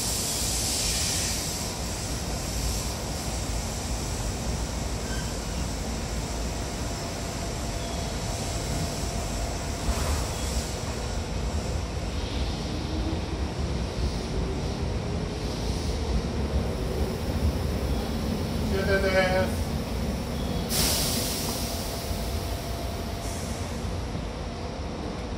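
A JR 201 series electric train runs on the Yamatoji Line, heard from inside with a steady rumbling roll and wind noise throughout. Faint higher tones and clatter come and go near the end.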